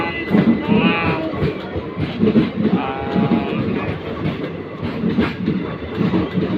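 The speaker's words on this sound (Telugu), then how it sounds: "జోగినగర్ రిషికేశ్ ట్రైన్కే వచ్చినాము." A Jogi Nagar–Rishikesh passenger train rumbles and clatters at a railway station, a loud steady mechanical noise with rhythmic clacking and a few squeals, heard alongside people speaking nearby.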